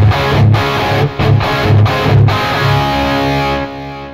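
Distorted electric guitar played through a JP2C amp model on a Cuvave Cube Baby multi-effects pedal, a loud chugging riff of short rhythmic chords with brief gaps, fading out at the end.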